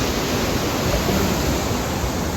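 Rushing stream water flows with a steady, loud broadband roar up close, unbroken and without voices.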